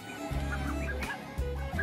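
Ducks honk and call repeatedly at close range, a loud nasal chorus from several birds.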